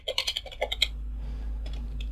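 A command is typed on a computer keyboard during a Kali Linux setup in VirtualBox, a quick run of crisp, close key clicks followed by a pause and a few more scattered taps over a low steady hum.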